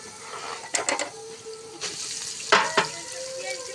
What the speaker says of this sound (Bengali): পেঁয়াজটা ভালোভাবে ভাজা হতে হতে